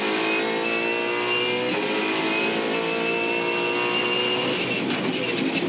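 Onboard a 2015 V8 Supercar racing through the final corner at the Adelaide street circuit, a loud sustained engine howl with rich harmonics that dips briefly then rises again under acceleration.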